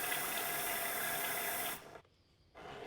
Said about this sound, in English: when I pull back on the trigger that the product is bubbling back into the color cup